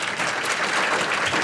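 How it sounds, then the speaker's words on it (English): A chamber of commerce luncheon crowd gives a warm round of applause to a speaker, steady, close, continuous clapping throughout the brief moment. "If everybody give Carson a warm applause."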